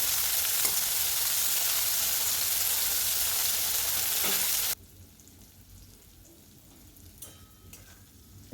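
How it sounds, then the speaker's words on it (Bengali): Bitter gourd slices fry in hot oil with salt and turmeric, giving a loud, steady sizzle that cuts off abruptly after a few seconds and leaves a quiet room with a few faint ticks. "উচ্ছেগুলো যাতে প্রত্যেকটা খুব ভালো করে ভাজা হয় তার জন্য একটু এরকম ছড়িয়ে ছড়িয়ে দেবো চারিদিকে"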